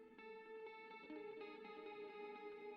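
A sustained electric guitar line drenched in delay and reverb shimmers with smeared, ringing repeats inside a beat production, steady and fairly quiet with no voices.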